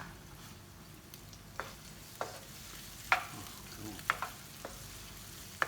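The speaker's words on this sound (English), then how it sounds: "There we go, it's starting to sizzle up nicely now." Garlic and ginger sizzle in a frying pan for mee goreng, a soft, steady crackle with scattered sharper pops and clicks of stirring.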